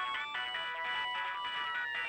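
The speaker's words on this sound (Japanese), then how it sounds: "お前さんの電話じゃないか" A phone ringtone plays in the PS2 video game Shikigami no Shiro, a steady electronic melodic chime with bright repeating tones, moderately loud with soft background music.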